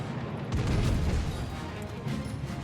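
Front turrets of the KMS Tirpitz battleship firing in World of Warships, a heavy low boom with rumbling tail amid dense battle noise, fairly loud and close.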